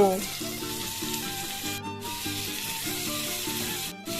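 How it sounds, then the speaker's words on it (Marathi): Tomatoes with ginger-garlic paste frying in a pan, a loud close sizzle running continuously with faint stirring underneath and no speech. "टमॅटो टाकून त्याला चांगला आपण मधात हलवून घेऊया मिक्स करूया"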